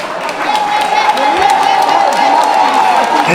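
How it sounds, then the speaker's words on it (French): A gala audience applauds and cheers loudly, claps blending into a continuous roar while a voice speaks over an amplified sound system. "Applaudissez très fort, Rosike."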